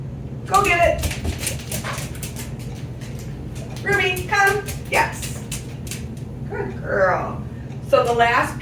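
During in-home dog training, a dog gives short whimpers and yips in scattered bursts close by, with a steady low hum behind it and a person speaking at times.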